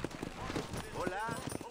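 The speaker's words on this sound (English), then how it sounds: "Here comes my horse." Horse hooves clip-clopping in the Red Dead Redemption video game, a war horse approaching at a steady rhythmic pace, close and moderately loud beneath continuous talking.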